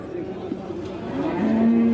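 At a busy livestock market, a cow lets out a rising, sustained moo that grows louder toward the end, over low background chatter.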